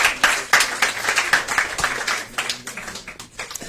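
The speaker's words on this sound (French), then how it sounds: "Vous pouvez applaudir" A crowd applauds at a French press conference for a film presentation, a steady wash of many hands clapping close and fairly loud, with no talk over it.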